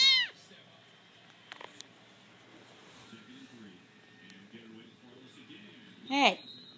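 A kitten meows close by, one cry at the start and another near the end, with soft rustling and faint background noise in the quiet stretch between.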